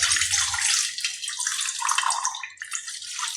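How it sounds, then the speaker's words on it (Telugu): Water is poured into rava idli batter in a bowl, making a steady, close splashing trickle that continues for several seconds with no voices. "నేను కొంచెం తగ్గించి వేసుకుంటాను వాటర్."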